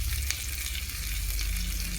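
Steady, dense sizzling of ginger frying in hot tempering oil, close and continuous, with occasional light stirring, no voices.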